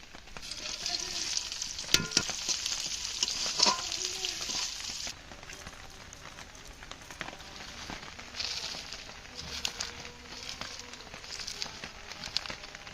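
Green chilies, chopped onion and garlic hit hot oil during rustic village cooking, and a strong sizzle is followed by quieter frying with scattered utensil clinks and stirring taps.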